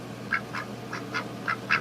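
A domesticated house duck, a female kept indoors, quacks six times in short, evenly spaced calls. Each call is close and clear against a quiet room hum.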